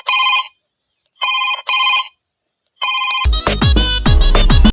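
A mobile phone ringtone rings in several short repeated bursts of a bright electronic melody, loud and close, separated by brief silences, before a lively musical passage takes over at the end.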